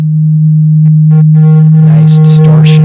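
Steady, loud sine tone held throughout, with harmonic overtones gradually building as the level is boosted and distortion adds a buzzy, crackling edge near the end.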